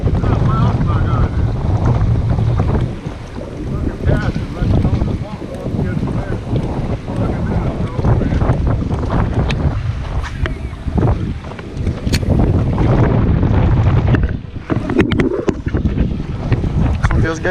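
Strong wind buffets the microphone aboard a bass fishing boat, with water washing and engine rumble underneath, gusts surging and easing throughout.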